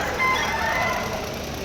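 An all-black chicken at a farm gives a short, close call lasting under two seconds over a steady background hiss.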